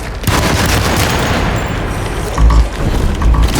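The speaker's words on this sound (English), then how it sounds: "Let's give this machine gun a go." Machine gun fire in the horror video game Alone In The Dark, a dense, continuous rattle of loud shots with heavy booming bursts near the end, no talk over it.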